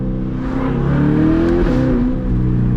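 Close, loud revving of a C8 Corvette fitted with a titanium exhaust, the engine note climbing and falling in a steady, continuous drone with no talk.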